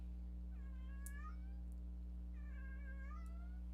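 A cat meows twice, a few seconds apart, moderately loud over a steady low background hum.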